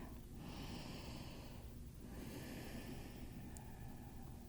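Slow, deep breaths during a back-stretching exercise, two long airy inhale-exhale cycles heard close and quiet over a soft background hiss.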